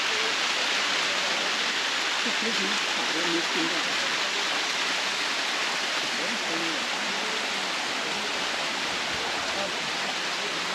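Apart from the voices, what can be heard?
Thai waterfall, water flowing while walking up it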